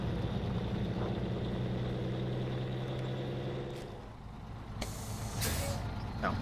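A truck engine idles and revs with a steady low rumble while reversing a trailer in the video game SnowRunner, with short hissing air bursts near the end.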